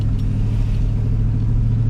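Steady, loud low rumble of a truck engine idling or running with a supercharged-sounding drone, continuous and close throughout with no talk.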